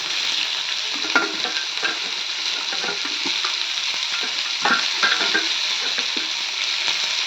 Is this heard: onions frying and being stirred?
yes